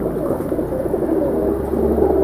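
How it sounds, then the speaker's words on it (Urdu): Teddy pigeons, a fancy breed kept in pairs, coo in low, soft murmuring calls that repeat steadily and close by, with no talk over them. "یہ دیکھیں یہ ٹیڈی کبوتر"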